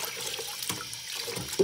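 Tap water runs steadily while a cyanotype print is rinsed in a sink, a close, continuous splashing wash with a small splash near the end.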